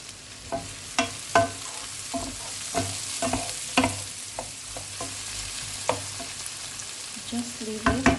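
Tomato sautés in butter in a pan, a soft sizzle broken by repeated scraping and clinking strokes of a utensil stirring at an uneven pace, close and alone without voices.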